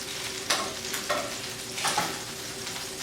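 Browned pork chops sizzle in a frying pan with a steady hiss, broken by a few scraping stirs and clinks as the meat is moved about, close and moderately loud.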